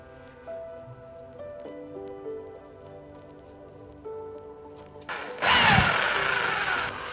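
A power drill bores 10 mm holes through silicon CDs, starting abruptly after a quiet stretch of faint tones and buzzing loudly and close until the end.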